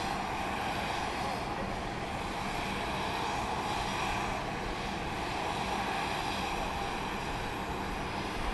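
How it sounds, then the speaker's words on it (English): Southwest airliner landing at Dallas Love Field at night, a steady wide jet roar with wind-like rushing noise, constant and moderately loud throughout with no clear talk. "This flight's coming in from Tampa, Florida. Flight 3221."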